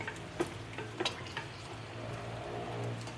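Patatim being stirred in a hot pan, with a steady sizzle under a few sharp scraping knocks of a utensil against the metal, close by, with no talking.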